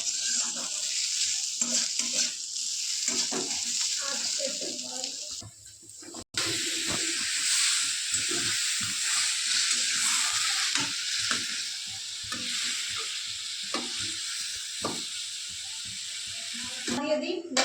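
Potatoes sizzle steadily in a frying pan, a loud continuous hiss with scattered stirring scrapes, briefly dipping and cutting out partway before resuming, while people talk faintly over it.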